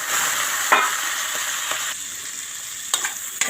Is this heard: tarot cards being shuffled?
no